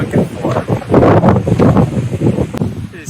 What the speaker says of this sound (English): It is so windy, you can probably tell.